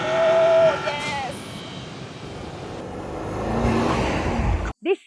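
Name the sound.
Audi SQ8 V8 turbo engine revving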